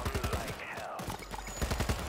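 Video game gunfire sounds as a fast, rhythmic burst of shots, briefly breaks off, then resumes in another rapid volley, heard moderately loud at close range.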